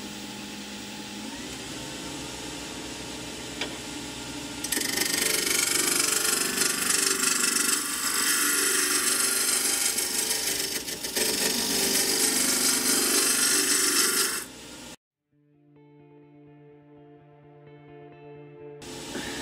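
Ash wood roughed into a cylinder on a wood lathe with a gouge: a loud, continuous harsh scraping roar of the cut over the motor's whine, then the cutting stops and the lathe hums alone.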